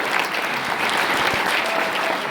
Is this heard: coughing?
no